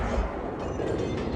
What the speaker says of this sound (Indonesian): Mobil tidak meledak setelah balapan, namun ternyata meledak juga.